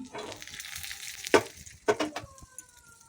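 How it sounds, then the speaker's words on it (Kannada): Cumin, mustard seeds and two dry chillies fry in hot oil in a pan, giving sparse sizzling with a few sharp pops and crackles that rise and fade. "ಒಂದು ಬಾಣಲಿ ತೊಗೊಂಡು ಎಣ್ಣೆ ಹಾಕ್ಕೊಳ್ತೀನಿ. ಜೀರಿಗೆ ಒಂಚೂರು, ಸಾಸಿವೆ ಸ್ವಲ್ಪ, 2 ಒಣಮೆಣಸು"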